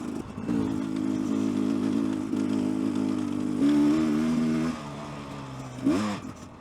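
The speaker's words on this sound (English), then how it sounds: "Let's do the hill climb. Hill climb on a dirt bike." A gas dirt bike engine on a hill climb revs and drones steadily at close range, its pitch shifting up as it strains, then dropping and rising again near the end; no talk.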